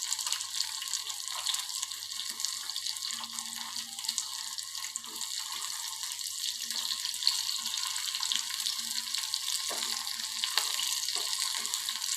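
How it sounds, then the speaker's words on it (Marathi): Bitter gourd (karela) slices fry in oil over a medium gas flame, a soft steady sizzle with faint crackles, close and continuous throughout with no voices. "मिडियम गॅसवरच याला कडक होईपर्यंत आपल्याला ते तळून घ्यायचं आहे कारलं"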